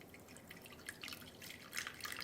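Water, about 170 grams, trickles and drips into a container while feeding a rye sourdough starter. The sound is faint and close, with uneven splashing that grows slightly toward the end, and there is no talking.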